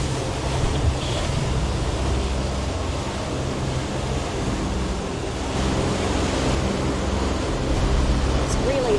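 Steady roar of ocean waves and surf around a sailing boat crossing the rough Wide Bay bar toward K'gari, with constant wind noise buffeting the microphone and the boat churning through sloppy, washing-machine water throughout.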